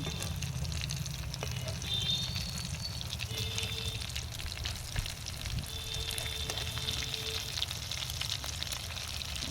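Soybean chunks frying in hot oil in a pan give a steady, moderately loud sizzle and crackle with no pauses, and a faint voice now and then.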